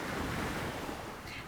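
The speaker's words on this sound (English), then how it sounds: "enjoy a sound installation of ocean waves" Ocean waves from a sound installation at a campus beach area, a continuous broad wash of surf with wind noise, steady and loud.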